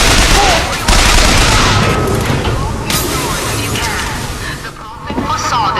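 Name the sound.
gunfire in video game Bioshock Infinite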